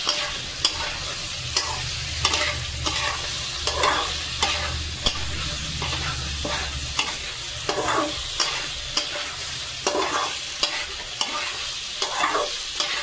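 Chicken pieces being stirred in a frying pan with spices, a curry cooked on a rainy day; steady sizzle with repeated scraping strokes of a spoon, close and alone without talk.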